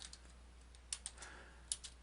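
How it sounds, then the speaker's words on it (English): Typing on a computer keyboard while writing a Java program, heard as a few faint, scattered key clicks over quiet room hiss, with no voices. "I'm going to type in description"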